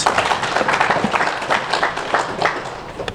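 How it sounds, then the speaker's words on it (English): A seminar audience gives a speaker a short round of applause, fairly close and loud, with individual claps standing out in an uneven patter for about three seconds. "Another round of applause for him as he takes his seat."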